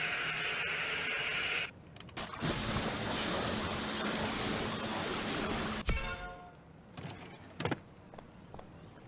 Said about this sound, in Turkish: Araba yıkayalım.